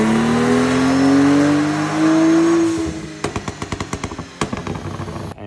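A BMW F10 with an N55 engine, tuned to around 650 wheel horsepower, revs hard through a fifth gear dyno pull, its rising engine tone holding loud for several seconds before a string of sharp pops and crackles as the throttle lifts.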